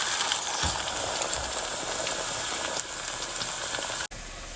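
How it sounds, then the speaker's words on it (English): Egg and sliced ham frying on a farmhouse breakfast grill, a loud steady hissing sizzle close up, with a few faint clicks and a brief cut near the end. "We'll add a little sliced ham on the grill. Now we'll drop an egg in."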